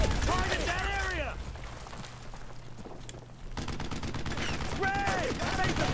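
Machine gun fire in the World War II shooter Brothers in Arms: Road to Hill 30, a steady rattle of rapid shots that drops back briefly midway, then resumes with mechanical clatter, under voices talking.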